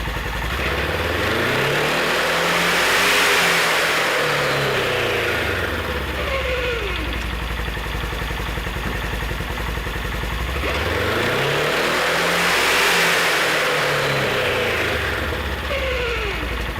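A Polaris off-road vehicle engine runs in park on a stand, spinning its CVT clutches, rising and falling twice in slow rev swells with a droning whir and mechanical whine, steady and close, with no talk.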